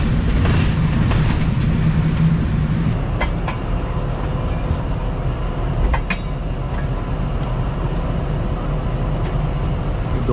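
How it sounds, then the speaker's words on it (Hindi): The Thal Express, travelling from Rawalpindi to Kundian Junction, moves off from a station platform with a loud, continuous rumble, wheel clatter and occasional metallic clicks heard from inside the carriage. "दो मिनट खड़े होने के बाद ट्रेन आगे बढ़ रही है"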